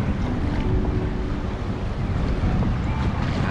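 Steady wind rushes and buffets the microphone, with water sloshing faintly underneath as a storm rolls in on the Chesapeake Bay at Fort Monroe, Virginia; no voices.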